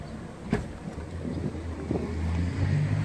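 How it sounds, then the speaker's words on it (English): The power liftgate on a 2017 Ford Escape SE opens with a steady, low motorized hum that slowly grows louder over a few seconds, with outdoor wind noise and a brief knock near the start. "This vehicle does have the power lift gate option. I'll show you that. Just press the button here."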